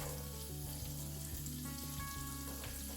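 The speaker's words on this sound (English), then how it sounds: "Now I'm gonna put some onion in there." Chopped small onion sizzling in butter in a pan, a steady close frying crackle with faint tonal hum, no talking, while cooking a shakshuka breakfast with eggs and sausages.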